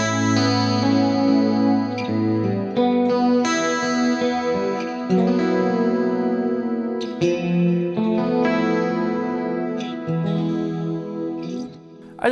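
Clean electric guitar chords and single notes ring out with a shimmering chorus effect, played steadily without any voices.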